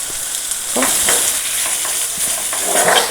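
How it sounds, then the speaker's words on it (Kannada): Grated coconut fries on a low flame in oil with the eggplant curry base, giving a steady close sizzle with soft scraping stirs running through it and no voices. "ಇದನ್ನು ಕೂಡ ಒಂದು ಇಪ್ಪತ್ತು ಸೆಕೆಂಡ್ ಫ್ರೈ ಮಾಡ್ಕೊಳ್ಳಿ ನೀಟಾಗಿ ಲೋ ಫ್ಲೇಮಲ್ಲಿ ಇಟ್ಬಿಟ್ಟು"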